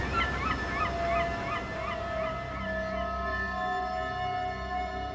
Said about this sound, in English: Oh, the birds are back.